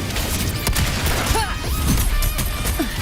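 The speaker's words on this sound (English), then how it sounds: "Another mortar thrown at us." A mortar explosion in a video game, heard as a dense roaring blast with rumbling low end and crackling debris, loud and close, amid continuous game music and effects.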